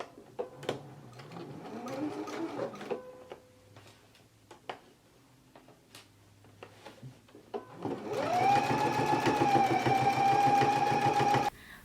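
A domestic sewing machine stitches a skirt pocket around a curve, with the needle kept down. Soft ticks and fabric handling come first, then the motor hums loudly and steadily with a rapid mechanical chatter for the last four seconds.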